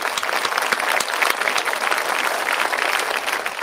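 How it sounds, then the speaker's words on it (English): An audience applauds steadily and loudly, with dense clapping that holds without a break for the whole few seconds. "Everyone give a round of applause to our man, Ben Hammond, everyone."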